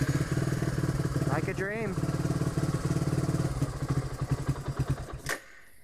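An old, cold DR motorcycle engine, running on stale gas, starts and chugs in a steady loud rhythm, close by, then sputters and dies near the end while a person speaks briefly over it.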